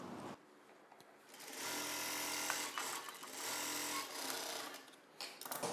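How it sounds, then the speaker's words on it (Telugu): A sewing machine stitches a medium-size blouse with a steady, continuous mechanical whir that runs the whole time at a fairly soft, close level, with slight speed changes. "పట్టుకొని చివరి వరకు కుట్టు వేసేసుకోవాలి."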